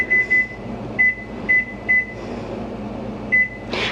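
A kitchen timer set while making mac and cheese gives a string of short, high electronic beeps in irregular bursts, close and clear over a low background hum, with no one talking.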